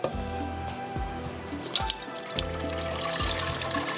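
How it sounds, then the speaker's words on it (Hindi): Boiled mince noodles drained from their cooking water, with drips, trickles and a few splashy pours heard up close and alone. "इसको भी हम एक दफ़ा पानी में से भी निकाल लेंगे और ये इसको ड्रेन आउट कर लेते हैं"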